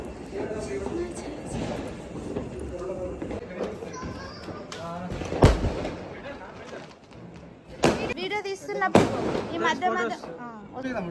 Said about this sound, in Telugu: మా వాళ్ళు టపాసులు కాలుస్తున్నారు